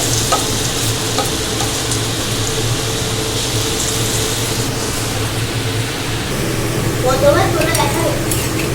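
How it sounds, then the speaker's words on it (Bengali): Chana dal pakoras fry in hot oil with a steady, dense sizzle that runs the whole time, close and fairly loud, with a few light utensil clinks near the end. "এই আর একবার ভাজাও কিন্তু আমার হয়ে গেছে এগুলোও কিন্তু আমি তুলে নিচ্ছি তেল ঝরিয়ে তুলে নিচ্ছি"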